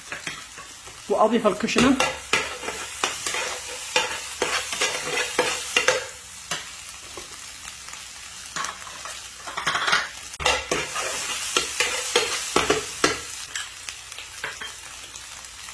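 Eggs being stirred in a hot frying pan while making Yemeni beans with eggs, utensil scraping and clinking against the pan over a steady sizzle, close and busy, with a brief spoken line partway through.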